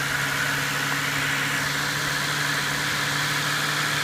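A 2008 Ford Fusion's 3.0-liter V6 idles steadily with a low, even hum and faint mechanical rattle, close and continuous throughout with no talking.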